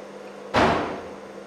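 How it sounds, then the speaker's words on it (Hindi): A door shaken by strong wind gives one sudden loud bang that fades into a brief rattle over a quiet indoor background, with no talking. "हवा बहुत आ रही ना, आवाज आता होगा दरवाजे का हमारा।"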